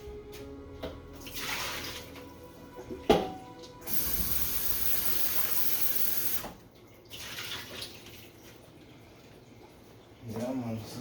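Tap water runs into a sink while raw shrimp are washed for a Jamaican curry shrimp dish, a steady broad rush lasting a few seconds amid kitchen clatter and handling noises.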